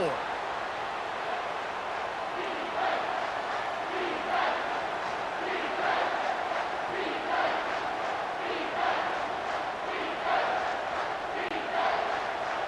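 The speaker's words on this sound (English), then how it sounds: "Here comes this home crowd as the defense tries to get off the field on 3rd down." A home crowd roars steadily at a college football game between Colorado State and Auburn, a sustained loud wall of cheering with rising swells during a third-down play, with no talk over it.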